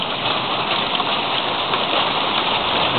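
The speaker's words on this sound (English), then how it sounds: "the hailstorm that we've been waiting for all day has finally arrived" Hail pours down during an April hailstorm, a dense, steady hiss of countless pellets striking surfaces close by, with no voices.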